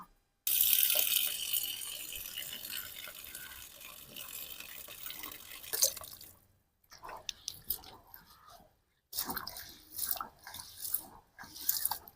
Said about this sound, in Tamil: நல்லா 2 வாட்டி கழுவிட்டு இந்த மாதிரி தண்ணியை வடிகட்டி காய வச்சுக்கலாம்